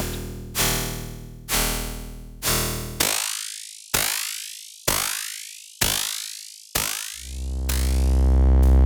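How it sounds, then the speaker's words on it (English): A phase distortion effect from the R_Ware DANK Delay synth module sounds as a series of repeated plucked tones, roughly one per second, each with a bright swooping sweep. A sustained buzzing drone builds at the end. "Phase distortion."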